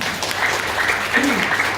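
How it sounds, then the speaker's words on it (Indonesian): A room full of people claps steadily in a dense, continuous round of applause at a sales-team gathering, close and loud throughout the brief moment. "tepuk tangan buat Bu Haja Linda"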